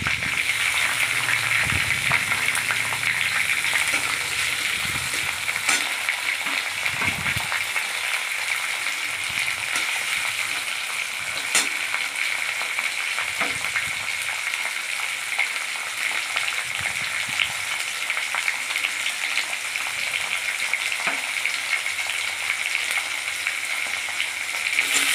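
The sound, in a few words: chopped garlic frying in oil with whole spices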